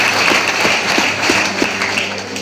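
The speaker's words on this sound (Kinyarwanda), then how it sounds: "Twongere duhuze ibiganza, dukomere Imana amashyi, twishimire twumva." A church congregation claps in steady, rhythmic unison at a pastor's installation ceremony, loud, continuous and alone, with a beat roughly three times per second.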